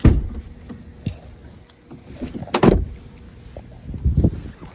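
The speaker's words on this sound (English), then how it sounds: "Can't even get the damn door open." Someone tries to open a damaged car door on a car with a broken front axle, producing scattered clunks, rattles and a few sharp bangs and thuds at close range, with no talking.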